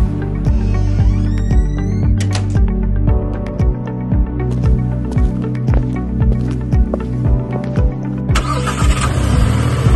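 A car engine starts and runs, steady mid-pitched motor hum with rhythmic thumps as it drives off, fairly loud and close throughout with no talk.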